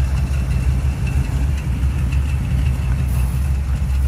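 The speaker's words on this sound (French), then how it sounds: "Compartiment moteur avec notre moteur V8, carburation, tout ça, ça a été revu" The 5-litre carburetted V8 of a 1979 Chevrolet Chevy Van G10 runs at a steady idle, a dense low rumble that holds even and unbroken throughout.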